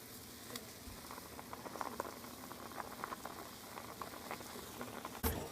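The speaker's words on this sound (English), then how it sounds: "So we're dropping it into the boiling water to see what happens." Water boils quietly in a pot as a small piece of cheese is dropped in, a soft continuous bubbling and popping patter with a brief louder splash near the end.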